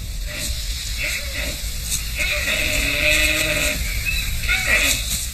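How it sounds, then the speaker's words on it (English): Axis deer mother calling repeatedly for a fawn hidden in tall grass, a series of short nasal bleating calls at moderate distance over steady outdoor ambience with insect hiss. "She is calling for her little one, which she had hidden in the grass."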